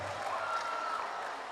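Applause from an audience for Cedar Grove Academy at the opening ceremony of a national geoinformatics expo, a steady, dense patter of clapping held at an even level, heard alone throughout.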